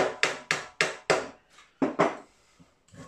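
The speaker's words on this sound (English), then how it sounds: "Tap the rivet in." A hammer taps a rivet into a 2-inch Fowler Showman's traction engine model: a string of sharp, close metallic knocks in uneven rhythm, some in quick pairs, with short gaps between.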